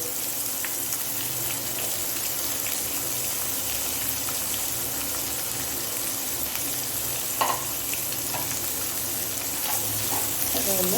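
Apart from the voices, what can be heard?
onions and green chillies sautéing in a pan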